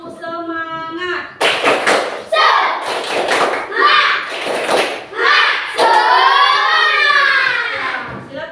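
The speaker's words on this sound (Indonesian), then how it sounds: "Tepuk semangat." Schoolchildren in a classroom perform a rhythmic spirit clap, sharp group claps in a patterned beat mixed with loud chanted voices, following a teacher's spoken cue at the start.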